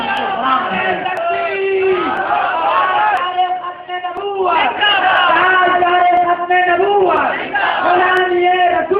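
A large congregation at a mosque speech at Bilal Masjid, Balagam Road, Tando Adam, chants slogans back in unison. The loud, sustained massed voices rise and fall in repeated waves and fill the whole stretch.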